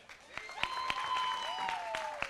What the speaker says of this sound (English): So one more round of applause for IFA women.